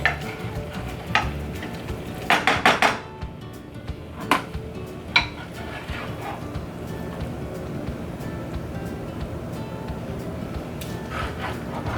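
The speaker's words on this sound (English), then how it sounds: "I'm just going to carefully scoop the ravioli and sauce onto this plate" Ravioli and sauce being scooped onto a plate, with a few soft utensil scrapes and clinks against a steady low background hiss.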